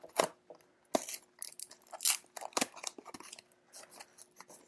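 The packaging of a YJ YuLong speed cube is opened: close, crisp bursts of crinkling and tearing cardboard and plastic, irregular and fairly loud, with short pauses between.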